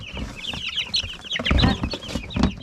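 Chickens on a homestead farm cluck and chirp close by in a busy, overlapping run of short calls, some sharper bursts rising above the rest, with no talking.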